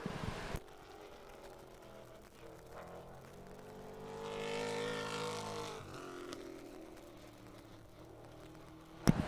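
A single race car on a speedway oval, lapping the back straightaway during time trials; engine drone swells as it nears and fades away again, fairly distant and faint, framed by sharp noises at the start and end.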